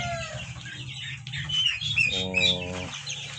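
Month-old chicks from a Rhode Island White crossed with White Leghorn, clucking and peeping close by in a backyard flock, several overlapping calls with one louder run of clucks near the end.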